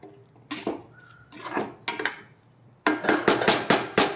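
Mutton liver pepper fry is stirred in a pan, with bursts of metal spatula scraping and clattering against the pan separated by short pauses, close and fairly loud, without speech.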